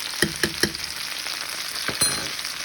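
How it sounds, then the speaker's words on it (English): Minced garlic frying in a pan, a steady sizzle with a few sharp stirring clicks early on and a brief scrape near the end, close and moderately loud with no talk. "Now I'm going to add in a big tablespoon of minced garlic."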